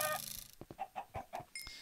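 Chicken clucking in Minecraft with the Feed the Beast modpack, a run of short repeated clucks close by following a brighter tonal sound, with another tone at the end.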